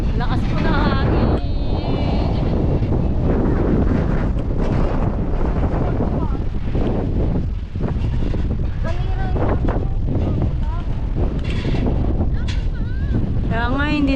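Strong wind roars and buffets the microphone continuously on Mount Brigino in Doña Remedios Trinidad, Bulacan, with a voice talking underneath the rushing gusts.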